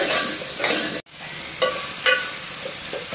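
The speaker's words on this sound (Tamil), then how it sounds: "அதையும் போட்டு நல்லா வதக்கிக்கலாம்" Onions, tomatoes and garlic paste sautéing in a pan for a vegetable white gravy: a loud, steady sizzle with stirring scrapes, broken once by a brief cut of silence.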